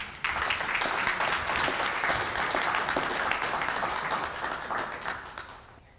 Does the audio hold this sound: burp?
no